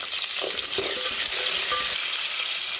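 Small onions with salt fry in hot oil as the base for a fish curry, giving a steady, close sizzle with occasional scraping stirs of a spoon in the pan.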